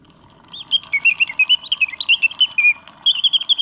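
An antique Bontems singing bird box automaton gives a loud, close run of rapid chirping whistles in quick pulsed phrases, with a brief pause before the song resumes over a faint mechanical whir.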